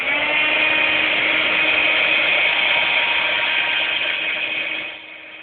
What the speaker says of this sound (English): give it a little bit of a blast with my heat gun